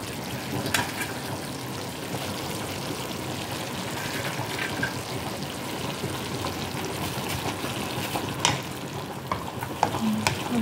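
Steady bubbling and sizzling of pasta noodles (pansit) cooking in a pot with other ingredients, with occasional scraping clinks of a utensil stirring.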